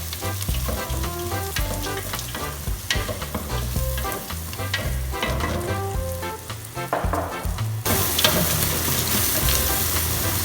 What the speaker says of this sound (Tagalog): So isama natin igisa yung ating peanut para mas lumasa yung gagamitin nating manik